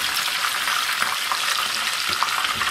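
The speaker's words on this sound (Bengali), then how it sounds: "এখন চিকেনগুলো এপিটপিট উল্টিয়ে হালকা একটু ভেজে নেব।" Chicken pieces frying in hot oil while being turned, giving a steady bright sizzle with small crackles and stirring scrapes, close and continuous.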